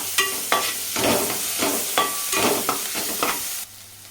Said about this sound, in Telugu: అల్లం వెల్లుల్లి పేస్ట్ వేసి అంతా ఇలా కలుపుతూ పచ్చి వాసన పోయే వరకు వేయించుకోవాలి